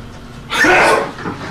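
A single close, loud sneeze, a brief breathy burst lasting under a second, followed by a short softer exhale.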